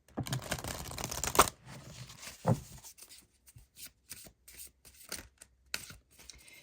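A deck of oracle cards is shuffled briskly, first as a dense riffling rush and then as a string of separate soft card flicks and taps, all close up with no speech.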